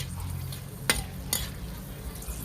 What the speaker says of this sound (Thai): เขาจะคั่วมันหอมกรอบ